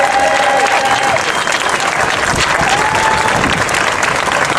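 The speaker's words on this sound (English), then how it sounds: "Give yourselves a big round of applause." A rally audience at a Colorado Democratic Senate unity gathering in Denver claps and cheers loudly, a dense, steady wash of applause filling the room from start to finish.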